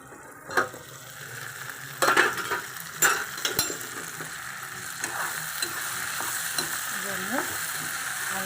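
Spices sauté in a pan with a low, steady sizzle, punctuated by several distinct scraping stirs and clinks of a spoon against the metal, close and moderately quiet.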